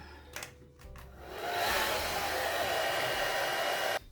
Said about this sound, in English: Blow dry that.